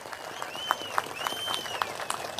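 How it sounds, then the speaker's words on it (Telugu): A crowd at a political rally for Andhra Pradesh Chief Minister Chandrababu Naidu breaking into applause, a dense but fairly distant wash of clapping with a few sharper individual claps and cheers. "గట్టిగా చప్పట్లు కొట్టి అభినందించండి."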